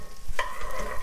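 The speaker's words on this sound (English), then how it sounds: "we are melting our butter in our Dutch oven, and now we'll just put our onions in and our leeks." Onions and leeks sizzle gently in melted butter in a Dutch oven, a soft steady crackle with a brief stir of the utensil, heard close up.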